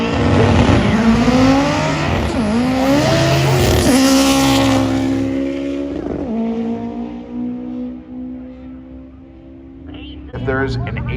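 A drag race car at a derby launches hard with its front tires lifting off the ground, the engine screaming and climbing through rising gear sweeps before fading, with an excited commentator talking over it.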